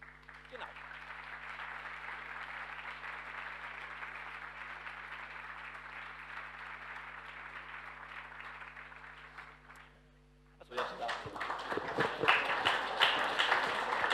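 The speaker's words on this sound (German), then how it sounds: "Der Beifall war jetzt für Florian Wilde." Applause from a lecture audience on the politics of right-wing populism and trade unions, a steady broad wash of clapping lasting about ten seconds, fading out before a speaker begins talking.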